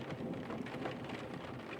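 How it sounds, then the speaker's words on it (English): Stormy rain in a video game, a steady dense hiss of downpour with low rolling thunder rumble underneath, constant and even throughout with no voices. "Oh, look. Another stormy day."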